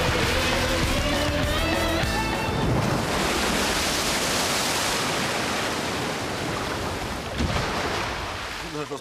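Rushing river water roars as a broad, steady wash of noise close by, with some brief tonal sounds near the start and a short splash-like burst near the end.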